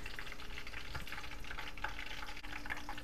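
Continuous crackling and bubbling of spring rolls deep frying in oil at 375 degrees, close and steady, with scattered sharp pops.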